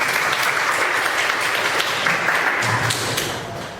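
A classroom group applauding together, a steady dense wash of clapping held throughout before tapering slightly at the close.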